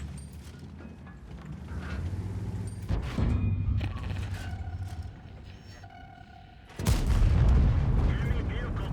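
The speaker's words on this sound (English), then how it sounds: "Enemy vehicle destroyed." An enemy tank is destroyed in a tank battle video game, a heavy explosion bursting near the end over ongoing rumbling engine noise and earlier booming gunfire.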